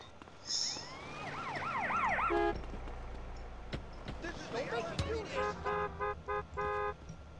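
A GTA San Andreas police siren wails and yelps briefly, then gives way to repeated car horn toots and engine noise, with people talking over the game sounds.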